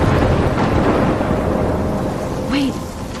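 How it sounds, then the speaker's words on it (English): Thunderstorm in the video game Life is Strange: a loud, steady wash of rain and rumbling storm noise fills the scene, with a brief brighter swell near the end as the roar eases slightly. "I'm trapped in a storm?"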